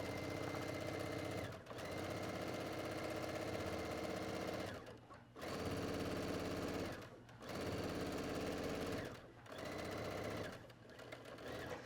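Sewing machine back-stitching a tunic seam, running in several sustained loud whirring stretches separated by brief stops as the stitching direction changes.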